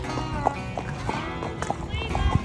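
Horses walk along on a trail ride in the Appalachian Mountains, hooves clip-clopping in an uneven, irregular patter at moderate distance, while a voice talks over them and a brief whinny-like sound cuts through.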